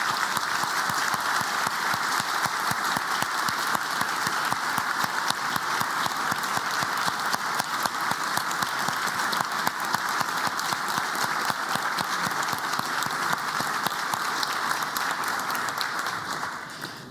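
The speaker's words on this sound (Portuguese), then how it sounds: "E é a ele que eu peço uma salva de palmas de todo mundo" Long, sustained round of applause from an audience during a speech, dense and steady clapping filling the room at an even level for many seconds before tapering off at the very end.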